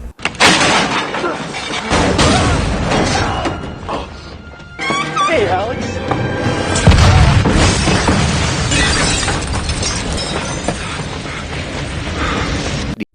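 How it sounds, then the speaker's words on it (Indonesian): A loud, sustained explosion in a film with shattering debris and rumbling, followed by continued crashing noise; voices are mixed in underneath. "tiba-tiba ledakan lagi terjadi"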